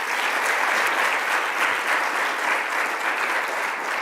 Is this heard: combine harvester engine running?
no